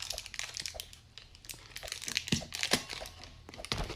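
A chocolate bar wrapper being peeled open up close, with repeated crisp crinkles and crackling bursts of plastic film over about four seconds and no voices.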